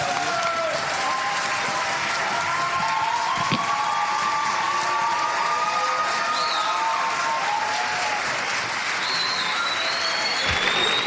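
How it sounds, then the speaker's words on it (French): A church closing-service audience at a large youth gathering applauds warmly as the organising team comes on stage, loud, dense, sustained clapping with a few scattered cheers. "Alors vous entendez les applaudissements parce que actuellement est monté sur scène tout le copil"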